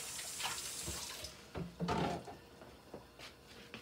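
A bowl is washed under a running kitchen tap, with water splashing and streaming in uneven bursts alongside light clinks and knocks of dishware, fairly quiet and close.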